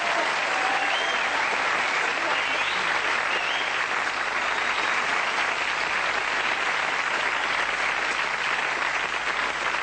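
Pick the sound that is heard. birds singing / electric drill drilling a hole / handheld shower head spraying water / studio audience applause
studio audience applause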